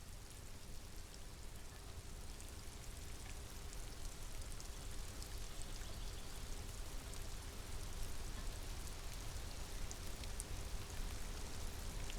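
Steady video-game rain in Disco Elysium falls and patters softly on surfaces, a faint, even hiss with a low hum beneath it and no voices.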